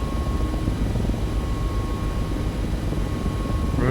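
Mi-17MTV5 helicopter rotor and twin turbine engines in the DCS flight simulator make a steady, loud, dense drone with rotor chop, holding evenly throughout with no voices.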